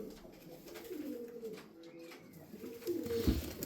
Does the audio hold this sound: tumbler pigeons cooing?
yes